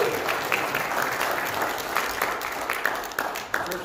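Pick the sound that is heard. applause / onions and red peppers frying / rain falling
applause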